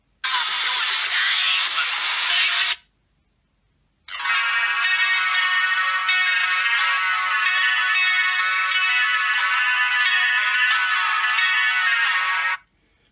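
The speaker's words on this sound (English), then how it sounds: "the audio player, it will play MP3s" MP3 music playing through the small built-in speaker of a DZ09 smartwatch phone, bright and thin, heard alone, stopping briefly near three seconds and then resuming steadily until near the end.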